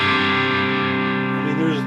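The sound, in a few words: electric guitar with high-gain distortion pedal, slight buzz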